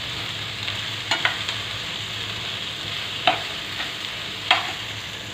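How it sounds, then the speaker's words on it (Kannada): French beans and carrots stir-fried in a pan give a steady, close sizzle, broken by a few sharp spatula scrapes and taps spaced a second or two apart, with no one talking. "ಚೆನ್ನಾಗಿ ಮಾಡಿ ಫ್ರೈ ಮಾಡೋಣ."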